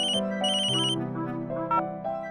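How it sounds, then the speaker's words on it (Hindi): A phone ringtone plays in repeated melodic bursts, loud and close, with no one talking over it during a domestic scene in a Hindi TV serial. "ईशान का फोन"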